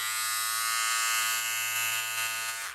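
A Kemei 2299 electric hair clipper gives a loud, high, continuous buzz close to the listener. The whine holds steady for nearly three seconds before tapering at the end. There is no speech over it.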